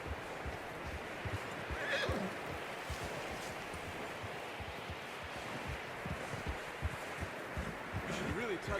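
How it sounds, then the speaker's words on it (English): A horse whinnies in the video game Red Dead Redemption 2, a brief neigh standing out over steady ambient noise and possible hoof clops, with faint background sound throughout. "You should really tether that horse out there."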